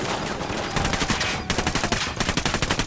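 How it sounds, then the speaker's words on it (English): Heavy gunfire in the shooter game Ghost Recon Wildlands: dense, rapid bursts of automatic fire rattling continuously, loud and close, with a brief pause midway before another string of evenly spaced shots. "Opening fire on these fuckers."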